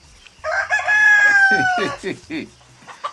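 Chickens and a rooster behind a rural house near a timber cowshed: one loud close crow rises and holds, then a run of short clucks follows.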